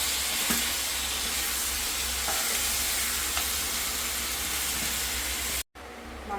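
Pork frying in a pan with garam masala while being stirred, a steady loud sizzle with scraping stir sounds throughout, cutting off abruptly near the end with no talk.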